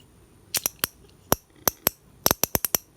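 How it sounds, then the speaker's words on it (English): A series of sharp mechanical clicks from an antique pencil sharpener, close and crisp, in irregular bursts: a few spaced clicks, then a rapid run of six or seven. "It makes like a weird clicking sound."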